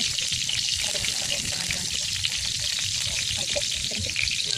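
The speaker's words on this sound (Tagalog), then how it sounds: "I'm going to fry eggplant" Eggplant frying in a pan for breakfast, a dense continuous sizzle and crackle of hot oil holding steady throughout, close and fairly loud, with faint voices beneath.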